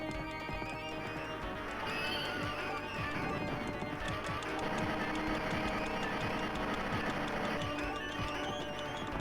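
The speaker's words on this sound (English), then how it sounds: "He's not getting off that horse" A horse gallops in a video game, rapid hoof clip-clops running continuously under a dense, busy game soundscape, with a possible whinny partway through.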